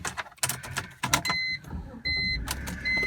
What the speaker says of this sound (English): so fires right to life and beeps at you the way German cars are wont to do, particularly BMWs.